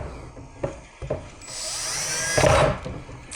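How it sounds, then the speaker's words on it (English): A power drill bores through pre-made holes in a wooden workpiece, with a couple of sharp knocks first, then a rising, whining drill burst that peaks and cuts off, close and loud. "Just going to drill out these holes real quick."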